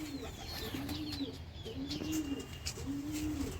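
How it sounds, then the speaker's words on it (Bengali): Several Andhra pigeons coo close by in repeated low, rolling phrases, with faint chirps over a steady background hiss. "খুবই অ্যাক্টিভ পায়রা, প্রত্যেক কটা অ্যাক্টিভ পায়রা আছে এখানে"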